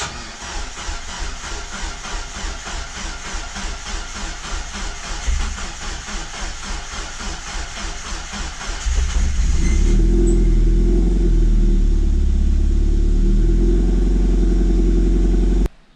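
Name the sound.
Mazda MX5 engine starting and revving, Skunk2 throttle body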